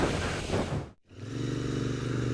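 Motorcycles roar past loudly and close, engine noise dropping out briefly as one passes, then another bike's steady drone continuing, heard from a rider on a 2018 Royal Enfield Interceptor 650.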